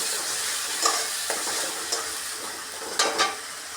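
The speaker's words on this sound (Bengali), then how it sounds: "এখন দিয়ে দিব টমেটো পেস্টটা।" Tomato paste going into a pan of singi fish and vegetable curry: a steady sizzle with a few soft stirring scrapes and taps, fairly close, with no one speaking.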